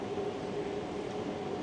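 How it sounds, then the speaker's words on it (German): A VR double-decker passenger train stands at a station in Finland, giving off a steady low rumble and hum with a faint tonal whine, continuous and moderately close, with no talk. "Das ist der Doppeldecker, mit dem wir fahren."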